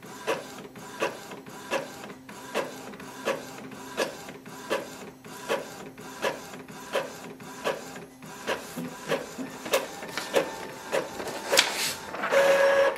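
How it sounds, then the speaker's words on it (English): An Epson ET-2720 ink tank printer runs a blank page, its print head shuttling in a steady rhythm of about twenty evenly spaced mechanical passes, close and clear, ending in a louder feed-and-eject whir with no talking. "So it has just printed the blank page."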